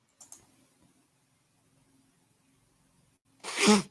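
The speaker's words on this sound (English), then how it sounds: "Oh, I got to sneeze. Here it comes." A single loud, sharp sneeze bursts out close by after a few seconds of near quiet with faint clicks.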